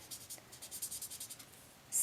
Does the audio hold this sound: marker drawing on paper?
yes